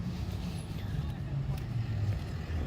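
A low, steady FedEx delivery truck engine rumble from somewhere off in the distance, mixed with wind buffeting the microphone.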